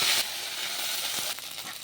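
Ginger, cumin and coriander paste sizzles loudly in hot mustard oil, a steady bright hiss that swells hardest in the opening moments and then carries on evenly at close range, with no voices.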